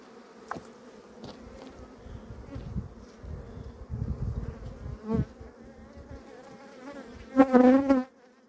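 Honey bees from weak, varroa-damaged colonies being merged hum in a dense, continuous drone during a hive inspection, swelling into louder close buzzing passes toward the end.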